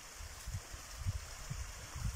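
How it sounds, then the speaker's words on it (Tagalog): Strong water flow through a canal feeding a backyard tilapia pond, a soft continuous rush with low gurgling pulses, faint and close. "Malakas ang tubig dito."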